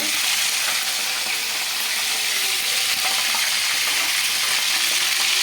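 Fennel and mustard seeds fry in hot oil for a crab curry, giving a dense, even sizzle that stays loud and close without a break.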